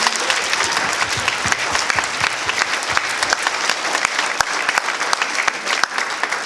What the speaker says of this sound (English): give them a round of applause for all the work they've done?